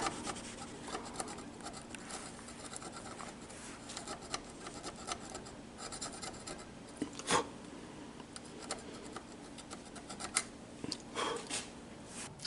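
Abrasive rubbing on the copper surface of a 1960s/70s Mercedes-Benz electrical relay contact, brightening it for soldering: a steady, close, faint scratchy rasp with a few louder scrapes and no talking.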